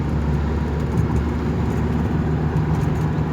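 A car drives along a country road past ploughed fields, heard from inside as a steady low engine drone and road rumble with no talking.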